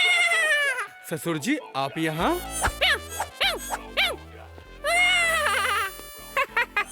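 A voice comically imitating a goat or sheep, a string of wavering, nasal bleats in quick bursts, mixed with other talk in a Hindi-dubbed film scene.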